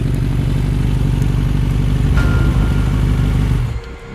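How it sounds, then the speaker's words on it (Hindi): A motorcycle engine chugs loudly and roughly at close range with a rapid uneven clatter, then sputters and cuts out abruptly near the end, leaving a faint low hum. "कुछ दूर चलने के बाद उसकी बाइक खराब हो जाती है।"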